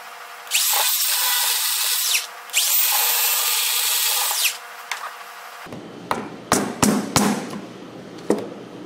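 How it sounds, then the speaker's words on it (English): An electric chainsaw cutting walnut for a bowl whines loudly in two long bursts, then cuts off, followed by several sharp knocks and clatters of wood. "I'm going to take my little electric chainsaw"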